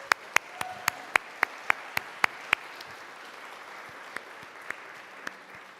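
An audience at the 44th annual Mayor's Arts Awards in Lincoln applauds: a quick run of sharp, distinct claps that thins out into a few scattered claps over a quiet room.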